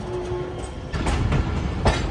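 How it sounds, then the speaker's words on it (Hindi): A Pakistan Railways passenger train nears Shujabad railway station, heard from inside a two-person cabin as a loud, steady rumble with rhythmic wheel clatter and a few sharper rail bursts. "तो 2:30 बजे ट्रेन हमारी अप्रोच बना रही है शुजाबाद रेलवे स्टेशन पर।"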